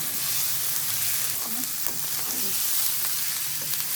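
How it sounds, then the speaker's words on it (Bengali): Polao rice and mung dal toasting in a pan for bhuna khichuri, a close, continuous dry sizzle with a few soft scrapes from stirring. "এখন আমরা পোলার চাল আর মুগ ডাল ভেজে নিচ্ছি।"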